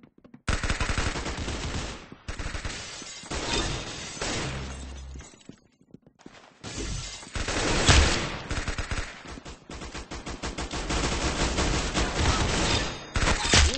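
Rapid automatic gunfire in the Roblox shooter Arsenal, with long loud bursts of shots separated by brief pauses and a few short gaps of silence, dense and close throughout.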